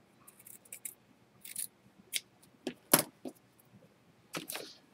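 Scissors snip a small piece of carpet in a few separate, close cuts with quiet pauses between them, plus light handling rustle and no voices.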